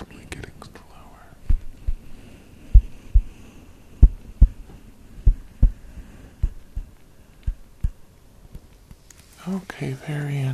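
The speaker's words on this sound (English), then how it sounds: "your heartbeat is definitely getting slower." A slow simulated heartbeat pulses steadily in an ASMR medical exam roleplay, with soft low thumps spaced about a second apart and gradually slowing, as a close whispering voice murmurs over them before rustling at the end.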